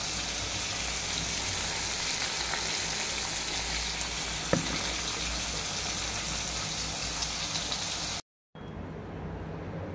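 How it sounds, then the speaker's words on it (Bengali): Pieces of pangas fish fry in a pan with a dense, continuous sizzle close by, broken by a single sharp tap midway, then a brief cut to near silence near the end. "তাই ভেজে নিচ্ছি"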